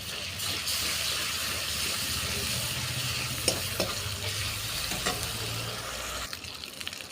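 Onions fry in a pan as ginger garlic paste goes in, a loud continuous sizzle with stirring scrapes and a few clinks near the end, no talking.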